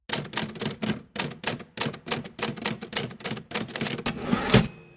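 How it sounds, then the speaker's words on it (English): A typewriter clatters with rapid, crisp keystrokes in quick bursts and brief gaps, close and loud, ending with a sharp carriage slap and a small ringing ding. "Now he's sitting at a desk in front of the typewriter"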